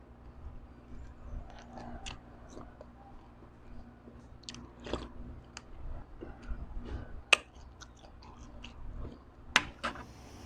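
Close chewing and crunching while eating boiled frog soup cooked with young tamarind leaves, soft irregular bites and clicks in a quiet setting.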